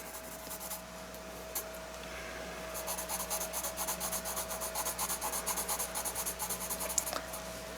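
Pencil sketching a bridge on paper, with steady rhythmic back-and-forth strokes scratching close up, brief scrapes at first and then a long even run of quick strokes, no voices.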